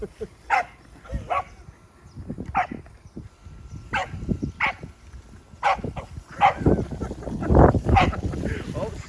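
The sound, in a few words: dog barking at RC car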